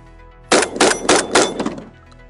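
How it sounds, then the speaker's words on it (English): Pump-action shotgun fired rapidly outdoors, with four loud booming shots in quick succession, each followed by a short decaying tail, then a quieter trailing echo. "Probably shoot as fast as I can pull the trigger."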